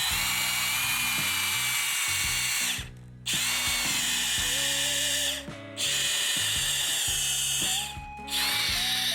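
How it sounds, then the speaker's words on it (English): A power drill whirs in three long bursts driving a screw, its pitch rising and straining as the screw bites in, with short pauses between runs. "I'm just going to screw this thing in here and hopefully, or try and drill into this"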